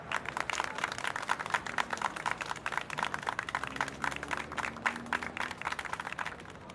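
A studio audience applauds a woman called to the stage, dense steady clapping from many hands that continues throughout at a moderate level.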